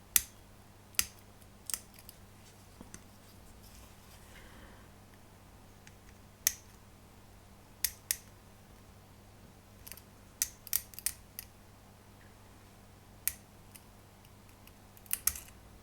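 Plastic parts of an MPC 1/24 General Lee model kit being trimmed, heard as scattered sharp snips and clicks at irregular intervals over a quiet background.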